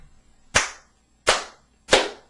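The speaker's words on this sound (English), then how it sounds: "when I clap" Three sharp hand claps, evenly spaced, each crisp and loud with a short decay in an acoustically treated podcast studio.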